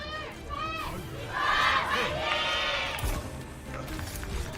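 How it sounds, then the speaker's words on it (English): A large crowd at an Overwatch 2 esports playoff event cheers and shouts in a loud, sustained roar that swells in the middle and stays dense throughout. "let's hear from the crowd"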